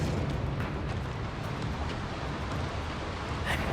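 A Confringo blasting spell from the game Hogwarts Legacy erupts as a dense, roaring blast of noise that stays loud and steady throughout, with a brighter crackling burst near the end and no voices.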